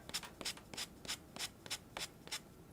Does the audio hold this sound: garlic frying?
no